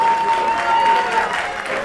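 An audience at a memorial gathering in a beer garden claps, a short burst of steady applause mixed with a few voices and a faint tone in the background.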